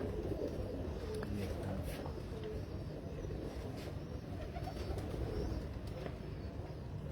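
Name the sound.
pigeons cooing on a rooftop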